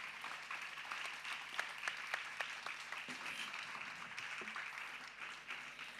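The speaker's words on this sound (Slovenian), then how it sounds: "En velik aplavz" An audience at a business conference closes a session with applause for three representatives. The clapping is dense and sustained, a steady wash of many hands with a few sharper claps standing out at the start.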